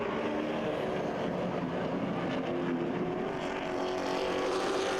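Late model race cars roar around a dirt track at Kil Kare Speedway amid lap traffic, a dense, continuous engine drone that stays loud and steady throughout.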